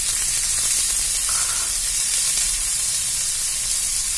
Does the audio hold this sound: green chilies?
yes